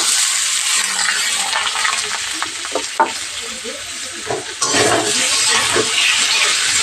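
Potatoes frying in hot oil with onions and bay leaf, a steady loud sizzle running throughout, broken by a few stirring scrapes and knocks in the middle, with a brief dip before the sizzling surges back.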